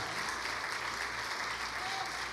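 Congregation applauding during a church service, a thick, continuous patter of many hands at moderate distance, steady and unbroken across the whole stretch.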